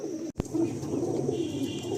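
Pigeons coo in a large loft in South Kolkata, soft rolling calls close by and overlapping continuously, broken only by a brief dropout near the start.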